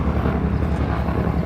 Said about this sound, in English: pardon the helicopter noise